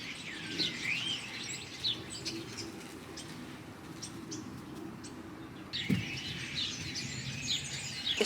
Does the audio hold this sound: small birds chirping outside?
yes